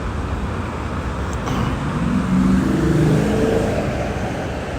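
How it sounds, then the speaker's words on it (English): Car pulling through a right turn at a city traffic light, its engine swelling as it passes close by and then easing off, over a steady wash of roadway traffic noise. "Car passes by me making the right turn without yielding."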